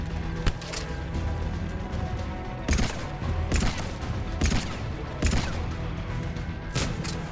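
Bursts of gunfire from Mass Effect 3 ring out in several short volleys, loud sharp cracks separated by brief pauses over a rumbling combat background.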